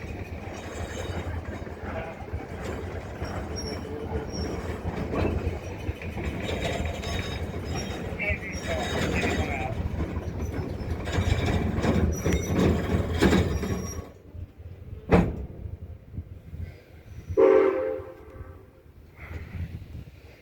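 Train riding on rails, a continuous rumbling clatter of wheels and carriage noise that grows louder, then drops away to quieter stretches with a few sharp knocks and brief squeals.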